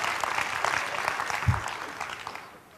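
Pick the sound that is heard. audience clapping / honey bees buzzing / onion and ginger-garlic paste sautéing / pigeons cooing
audience clapping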